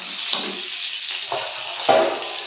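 Chopped green chillies frying in a little oil, stirred in a pan for a meat curry and prawn dish: a steady bright sizzle with soft scraping stir strokes, close and alone.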